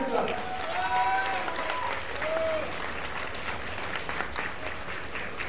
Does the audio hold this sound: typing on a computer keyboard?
no